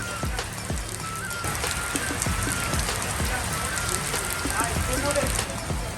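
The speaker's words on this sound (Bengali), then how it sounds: "বাইরে তাকিয়ে দেখলাম বৃষ্টি নেমে গেল বৃষ্টি" Steady rain pours down outside, a dense continuous patter with scattered heavier drops close by, constant throughout.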